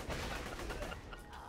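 Rapid bursts of gunfire from the video game Borderlands, dense and continuous across the whole moment, loud and close with a broadband crackle and no clear pauses between shots.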